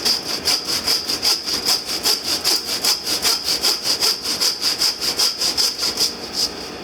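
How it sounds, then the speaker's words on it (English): A hand saw rasps back and forth in a steady, even rhythm, each stroke a gritty scrape through pig rib bone, close and loud with no talking. "Let the weight of the saw take it through the ribs."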